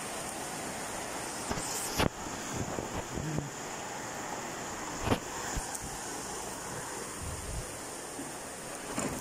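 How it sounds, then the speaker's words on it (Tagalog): Strong rain with heavy wind during a storm, recorded at home: a steady broadband roar of rain and gusting wind fills the whole stretch, with a few sharp knocks and rattles standing out. "Ang lakas ng ulan."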